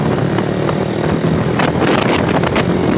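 A Suzuki Satria moped fitted with a Salvo T9 racing exhaust runs steadily, its loud engine note buried in heavy wind rush on an open road, with no speech.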